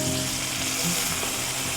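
Coarsely chopped wild mushrooms fry in a pan for tarragon chicken, giving a steady, close, even sizzle that continues unbroken throughout, with no voices.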